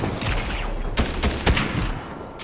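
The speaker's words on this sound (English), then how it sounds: "Oh, I got sniped from the other building" Gunfire in the Fortnite video game, a few sharp loud shots cracking over a busy, dense game soundscape, including a sniper shot from a nearby building.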